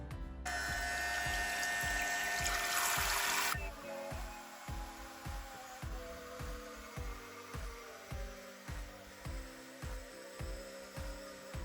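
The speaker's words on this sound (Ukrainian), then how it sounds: "давайте перевіримо, скільки часу він зможе перекачувати воду" A small portable outdoor shower pump hums with a rhythmic pulsing beat while water sprays steadily at first, then the spray stops and the pump keeps pulsing alone.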